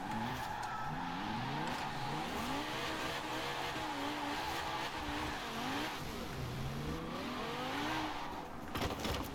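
A drift-tuned car sliding in Forza Horizon 4, its engine revving in rising and falling sweeps as the tires squeal continuously through long slides, loud and close with no talking.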